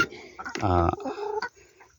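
A laying hen on a small organic backyard farm lets out one short, close cluck, followed by softer scattered rustling and low murmurs.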